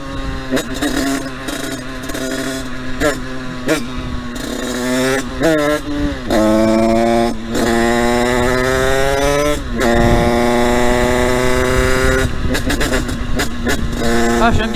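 A small motorcycle engine, a 125 cc four-stroke on a CRF-type bike, repeatedly revs up and picks up speed while riding, its whining tone rising through gear changes, loud and close, with brief talk in between.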